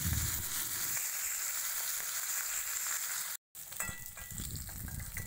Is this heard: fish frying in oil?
yes